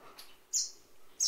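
A three-month-old water bird perched on a hand chirps while begging for a worm: two sharp, high chirps close by, separated by a pause, with faint twittering in between.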